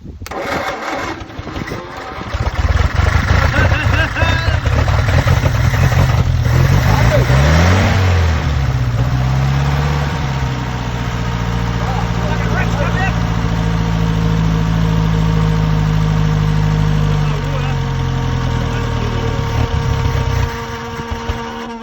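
A 1928 Chevy truck engine cranks, catches and settles into a loud, steady, slightly uneven idle that runs close by for about twenty seconds, with people talking over it now and then.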